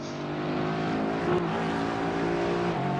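A Porsche GT4 race car in iRacing, its engine holding a steady, loud, close drone on a straight with only slight pitch shifts, no talk over it.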